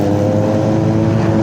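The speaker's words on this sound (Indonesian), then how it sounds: "Pesona motor chopper." Chopper motorcycle passing along a city street in Malang, a steady loud engine rumble with dense low tones filling the whole moment, no voices.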